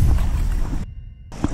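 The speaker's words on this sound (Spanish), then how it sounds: "Se escucha un río, vamos a atravesar un río." Water of a river rushes steadily on a hiking trail up the Chichonal volcano, a broad wind-buffeted noise that cuts out briefly mid-way and then returns.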